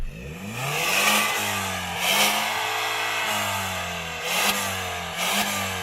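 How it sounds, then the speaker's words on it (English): A BMW car engine revs repeatedly, rising in pitch with each throttle blip and then settling back to a low idle, close and loud. "let's have a listen to this BMW."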